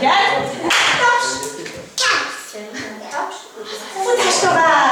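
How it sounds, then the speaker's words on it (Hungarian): Children in a gym exercise class clap their hands, producing sharp, loud slaps in uneven bursts amid an instructor's shouted commands and echoing room noise. "Taps!"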